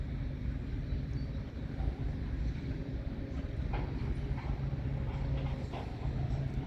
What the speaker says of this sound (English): Hooking up those rail cars.